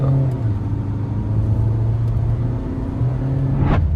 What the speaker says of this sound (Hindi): ओह, व्हील स्पिन भी हुआ भाई इस बार